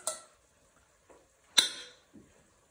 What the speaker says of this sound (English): I'm almost using the back of my spoon just to help break down a few bits of that lime